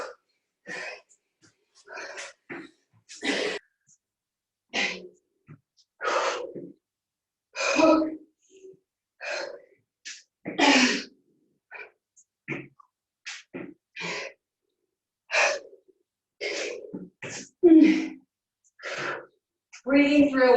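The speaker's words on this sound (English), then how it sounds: "I'm completely breathless." Heavy, breathless panting from a person after exercise, with loud, irregular gasps and breaths in short bursts throughout, close to the mic.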